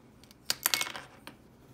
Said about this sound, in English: And now take the Jotter apart.